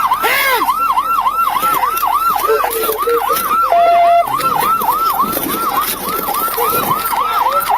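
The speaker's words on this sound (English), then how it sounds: "Sirens echoed through the night as officers closed in" Wailing police car sirens sweep up and down in a steady, repeating pattern at night during a chase, loud and close, with a second siren tone briefly layered in.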